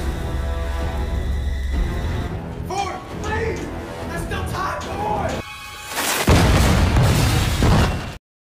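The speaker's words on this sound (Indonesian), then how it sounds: "Sehingga ia nekat meledakkan dirinya di dalam sana bersama para monster ciptaan Nazi lainnya." Explosions in a film scene, with a self-detonation among Nazi-created monsters: a soundtrack of swelling noise and bursts, ending in a loud, broad, sustained blast over the final seconds before cutting off.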